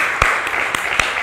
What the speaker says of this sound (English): So can we clap hands for Nkosile Nhlekwebu as she comes up?